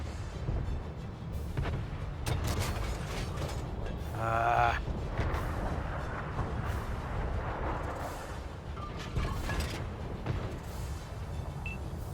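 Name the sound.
tank cannon firing in World of Tanks video game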